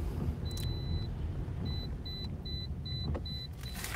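A car seatbelt warning chime beeps in short, evenly spaced electronic pulses over a low, steady car-interior rumble.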